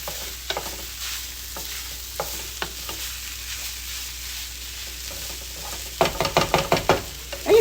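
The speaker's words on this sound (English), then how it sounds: "I'm going to go ahead and add my dark soy sauce just for color" Chicken fried rice stir-fried in a hot pan after dark soy sauce goes in, with a faint steady sizzle and sporadic scraping stirs that turn into a quick burst of rhythmic tossing near the end.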